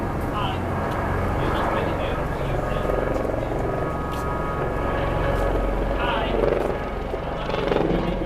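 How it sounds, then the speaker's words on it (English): A steady low rotor drone from a helicopter passes overhead on the Las Vegas Strip, loud and constant, with voices and outdoor street noise mixed in. "Helicopter overhead."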